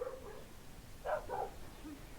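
A small puppy found in a canal gives faint barks and soft whimpers, a few short yips close by against quiet background noise.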